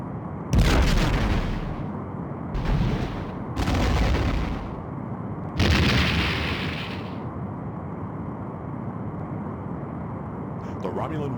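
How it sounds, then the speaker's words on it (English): A Romulan warbird is destroyed by torpedo explosions in the Star Trek: A Final Unity game: four loud booming blasts in quick succession over a steady engine hum, the last one longest and fading out. "The Romulan warbird has been destroyed."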